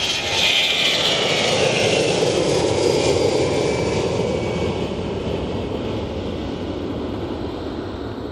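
An airliner departing Bristol Airport for Catania rolls for takeoff, its jet engines a loud, broad, continuous roar with a faint high whine, holding steady and easing slightly toward the end.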